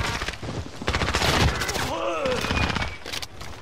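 Rapid, sustained automatic gunfire from a magazine dump in a video game, with dense bursts of shots across the clip under loud, excited voices of players talking over it.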